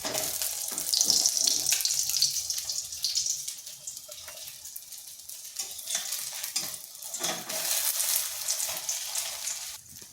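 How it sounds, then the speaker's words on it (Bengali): Snacks frying in a little oil in a wok, a close crackling sizzle with brief scrapes and clatters as the pieces are turned over and over. "এইভাবে উল্টে পাল্টে ভেজে নিয়েছি।"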